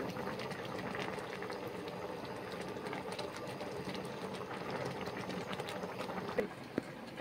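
A pot of poppy seed paste thinned with water bubbles at a steady boil, with a continuous close crackle and burble and a couple of faint knocks near the end.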